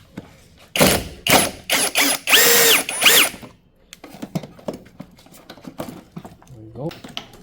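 A ratchet with a 10 socket removes a bolt during removal of the front wiring harness on a T5 van: several loud, close, buzzing tool bursts, then quieter clicks and handling noises, with talk present.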